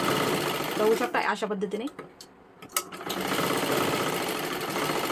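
A sewing machine stitching a blouse seam, running in loud continuous bursts with a short pause, while someone talks over it.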